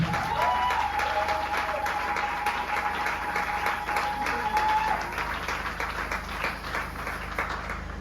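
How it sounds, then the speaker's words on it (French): A church congregation breaks into sustained applause and cheers during worship, dense clapping from a large crowd over a steady low hum, with a brief whistle-like tone partway through. "est-ce qu'on peut acclamer le Saint-Esprit?"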